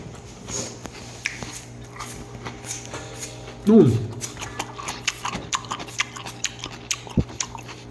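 Someone chews a crunchy raw kohlrabi salad up close, with repeated bites and crunches that run under people talking throughout.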